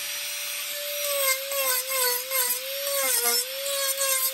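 A handheld power tool rounds over the neck of a carved wooden otter, a steady high whine with rough, rasping sanding strokes that rise and fall in rhythm, close up and with no talk.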